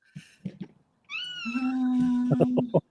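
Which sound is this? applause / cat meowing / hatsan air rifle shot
cat meowing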